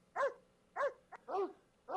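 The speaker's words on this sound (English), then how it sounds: "that's very cool to have dogs barking and Freud talking and all that stuff" Dogs barking, played as a sound from a web page: four short, clear barks at a steady pace, close and isolated against near silence.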